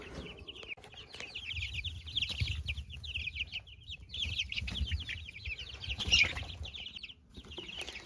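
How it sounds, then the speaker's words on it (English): Several chickens cluck and squawk close by, with wings flapping now and then, continuous chatter rising and falling throughout. "We have two different groups of chickens here."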